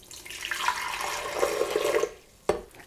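Water pours steadily into a blender for about two seconds, a splashing, filling sound, then stops; a short knock follows near the end.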